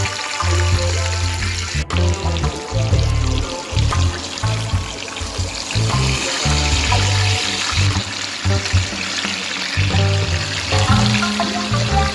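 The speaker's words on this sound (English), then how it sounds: "Now we're gonna wash our coconut for it to be blend." Tap water runs steadily while a coconut is washed at a sink, a continuous close trickling and pouring rush with no voices.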